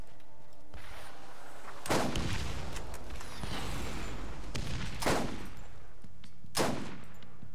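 Gunfire in the video game Borderlands comes in several loud, sharp bursts a second or so apart, with quieter battle noise and humming in between and no talk.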